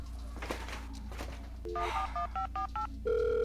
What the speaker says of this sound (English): All I want is to make a phone call.